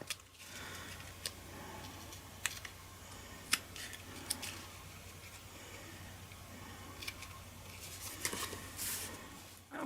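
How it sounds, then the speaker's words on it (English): Scissors trimming around a punched hexagon paper shape during a card-making session, sparse quiet snips and ticks spaced irregularly over a faint steady hum. "I'm just going to use my scissors to cut round it, to trim it off."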